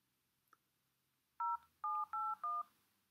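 A telephone being dialed: four clear, evenly spaced dual-tone keypad beeps, loud and close, following a faint click with no voice.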